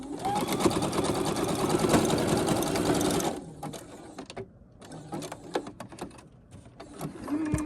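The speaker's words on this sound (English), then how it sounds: "let's see what happens with the zigzag this time" A sewing machine stitching fabric with a zigzag stitch runs in a loud, continuous mechanical whir for about three seconds, then gives way to quieter, intermittent clicks and short bursts of stitching.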